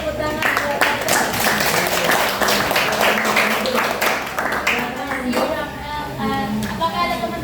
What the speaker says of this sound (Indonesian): Tadi tepuk tangan buat Kakak.